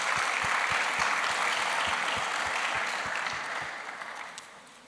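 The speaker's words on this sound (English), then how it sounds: "I think that deserves a round of applause" An audience at a university sports awards ceremony breaks into a broad, sustained round of applause that gradually thins and fades toward the end, a few claps standing out near the front.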